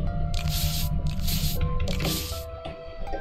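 Spraying in the video game Identity V: three loud hissing bursts of spray, each lasting around half a second, separated by short gaps, over a steady background of game music and tones.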